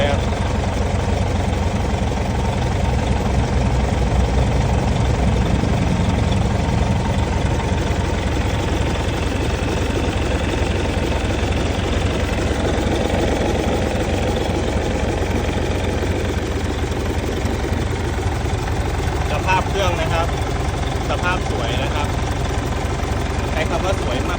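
An S700 engine runs close by with a steady, vibrating low rumble, idling with slight rises in pitch as it is revved. Someone speaks over it toward the end.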